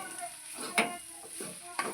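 Ridge gourd with grated coconut fries in hot oil in a pan with a soft, quiet sizzle, broken by a couple of sharp stirring scrapes and clinks.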